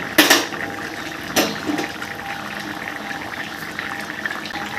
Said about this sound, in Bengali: এদিকে বড়িটা সেদ্ধ হতে থাকুক